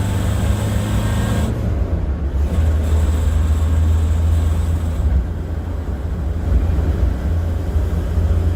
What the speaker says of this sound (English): Hear that carburetor sucking. Sounds very raspy and metallic.